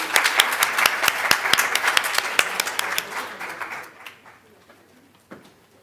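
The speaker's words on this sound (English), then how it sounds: "the round of applause for the panelists" A symposium audience gives the panelists a round of applause, dense and energetic at first, then thinning out and fading to a few scattered claps.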